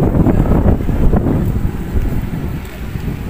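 Steady wind sweeps along the Manila Bay baywalk near Mall of Asia, buffeting the microphone with a continuous rushing roar.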